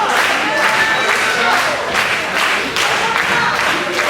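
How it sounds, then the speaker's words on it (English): Wrestling crowd at an El Torito tag match roars and claps steadily in a dense, loud wash of cheering, with rhythmic surges as they rally, commentary voices faintly mixed in. "And the crowd here rallying for a tag to El Torito."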